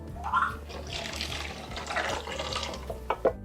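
Cooked pasta water being drained for a tuna pesto bake, a steady splashing pour of water into a sink with a few light clattering knocks near the end.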